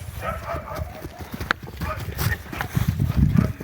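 Horse hooves clop on the ground as a mare walks at a lively pace, lifting her feet high, with people talking nearby over the footsteps.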